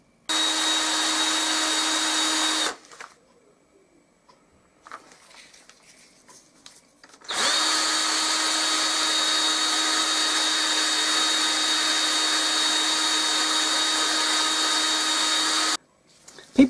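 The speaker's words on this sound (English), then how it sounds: "So I'm now going to do just a little bit of sizing and polishing on there" A power tool whirs steadily for several seconds while sizing and polishing a half crown coin ring. After a short pause with faint handling noises, it runs again for a longer stretch before stopping.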